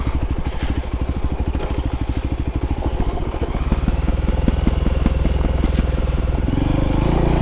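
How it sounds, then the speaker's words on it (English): Voge 300 Rally motorcycle climbing a steep gradient in second gear, its single-cylinder engine thumping loud and close in a steady rapid pulse, rising into a smoother, heavier drone near the end. "if you let the bike just do the work, go into second there, seems to cope very well"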